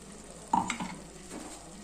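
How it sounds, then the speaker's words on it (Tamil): A soft thick splat as ground coconut paste is poured into a hot pan for egg gravy, then a brief scrape and a low sizzle continuing quietly. "இப்போ அரைச்சி வச்ச தேங்காய் பேஸ்ட்டை ஊற்றிக்கலாம்"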